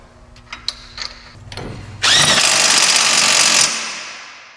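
An AC Delco ARI2023 1/2 inch impact wrench tightening a rusty axle nut: a few light clicks, then a loud, continuous rattling hammer burst of about a second and a half, close up, trailing off as it stops.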